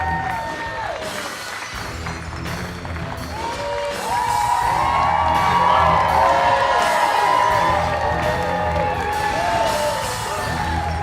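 A live audience at a community dance competition cheers, whoops and applauds after a dance routine, the roar swelling in the middle and staying loud and dense throughout.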